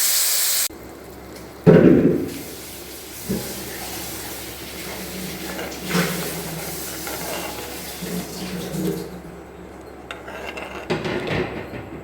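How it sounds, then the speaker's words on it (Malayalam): Tamarind extract is poured into sautéed onions for a Kerala thoducurry, with a sudden splashy hiss as the liquid hits the pan, then a softer, continuous simmering sizzle with occasional clinks. "ഇപ്പോൾ നമ്മുടെ ഉള്ളിയൊക്കെ നന്നായി വഴന്നു കഴിഞ്ഞു. അതിലേക്ക് നമ്മൾ പുളി പിഴിഞ്ഞത് ഒഴിച്ചു കൊടുക്കും."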